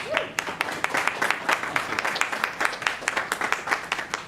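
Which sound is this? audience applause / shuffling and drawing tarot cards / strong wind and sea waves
audience applause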